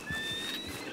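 Horse hooves clip-clopping in Red Dead Redemption 2, a steady close trot with a whinny-like tonal layer above, running continuously through the short moment with no talk.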